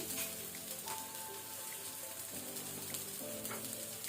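Crushed ginger fries in a pan for a chicken dish, giving a soft, steady sizzle like light rain, with a faint low hum in the background.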